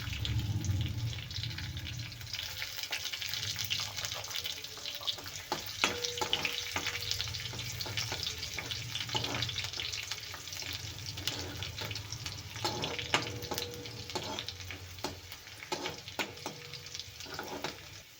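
Garlic fries in oil in a kadhai after cumin seeds have crackled, giving a low steady sizzle under frequent clinks and scrapes of a spoon against the metal pan, with no talking.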